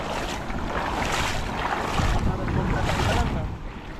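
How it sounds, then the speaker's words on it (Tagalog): Strong wind gusts across the mic beside a flowing river, a loud rushing roar swelling and easing, with faint voices underneath. "Malakas din ang hangin, hindi lang agos."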